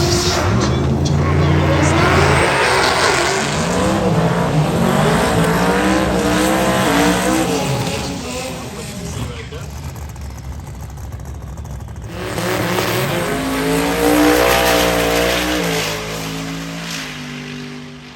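Drag racing car at Hot Rod Drag Week roaring through a loud run with rising and falling engine revs, briefly dropping away and then surging again, with a voice talking over it.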